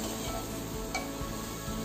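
Cumin and coriander powder stirred with vegetables in a frying pan for mung dal khichdi, a soft, close sizzle with faint scraping strokes over a short stretch.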